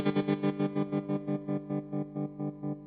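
Electric guitar played through a Vahlbruch Twin Tremolo pedal at its fastest rate, a sustained distorted chord pulsing rhythmically in rapid even throbs as the depth is set.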